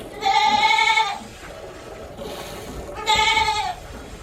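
A goat being milked bleats twice, two loud, close, harmonic cries of about a second each, separated by a quieter gap of farmyard background.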